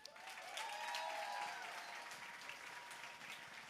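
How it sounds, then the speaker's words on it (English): An audience applauds at a 2021 real estate conference keynote in New Jersey, a steady burst of clapping lasting a few seconds, fairly close and even. "Round of applause for Tom, please."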